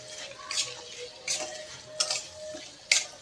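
Spicy tomato bhaji mixed with crushed peanut powder is stirred in a pan, giving four quiet, separate scraping strokes spaced about a second apart over a faint background hum.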